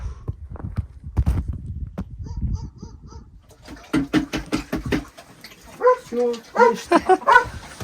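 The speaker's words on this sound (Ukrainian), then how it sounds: "Хто тут гавкає?" A dog barks in short repeated bursts nearby, with other animal calls and faint background noise around it.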